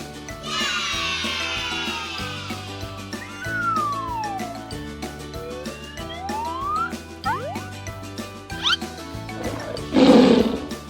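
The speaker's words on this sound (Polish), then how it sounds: "To jest tygrys." A tiger roars in a children's animal-sounds quiz, set over playful background music with sliding whistle tones, the clearest roaring burst arriving loud near the end.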